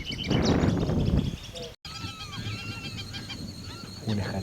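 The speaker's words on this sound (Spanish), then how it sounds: "Un pájaro tan pequeño como el caso de la ratona, de 10 centímetros, emite un fuerte y agradable canto" After a noisy start, a small wren sings a loud, pleasant string of whistled and trilled phrases against faint background sounds.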